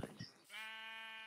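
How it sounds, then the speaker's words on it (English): A sheep in the Minecraft game gives one clear, drawn-out bleat, steady and tonal. A brief bit of softer sound comes just before it. "My gray sheep friend is still here."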